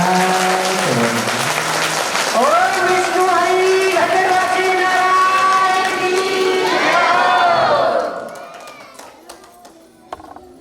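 A religious gathering's audience claps loudly and cheers to welcome Kuber, a dense, sustained wash of applause with shouting and tonal sounds over it. It breaks off abruptly near the end, leaving a few faint scattered sounds.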